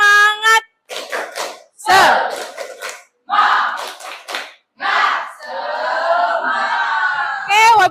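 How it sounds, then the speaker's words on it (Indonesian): A school class of children chants and claps through a rhythmic cheer routine in short bursts, voices shouting together between rhythmic hand claps, ending in a sustained group shout. "Sekali lagi tepuk semangat."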